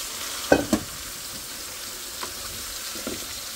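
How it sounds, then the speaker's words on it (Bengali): Pangas fish fries in a pan, a steady soft sizzle with a couple of sharp clatters as it is stirred and turned early on. "তো এটা কষানো শেষ মাছটা, আর মাছ ও পাঙ্গাস মাছ উল্টাতে হইব।"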